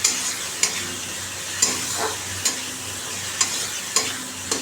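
Cumin and black pepper powder sizzle in a hot pan with turmeric and salt, a steady crackling fry broken by sharp stirring scrapes about every second, close and moderately loud with no voices.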